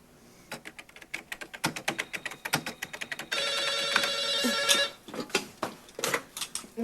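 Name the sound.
telephone ringing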